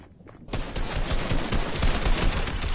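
Rapid gunfire in a shooter video game bursts in after a brief quiet moment and continues as a dense, loud fusillade of overlapping shots, with no talk.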